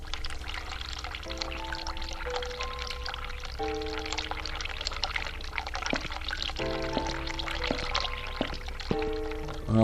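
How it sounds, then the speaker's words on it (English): Hot water runs from a tap in the horror video game The Cat Lady, a steady pouring stream heard under sustained tonal background music. "We're going to turn on the hot water so we get the steam going."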